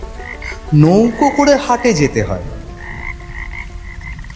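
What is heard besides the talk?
frogs croaking in the rain, audio story effect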